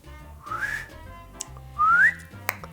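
Two short rising whistled notes from a person, the second louder and longer, with a faint click between them and low background hum.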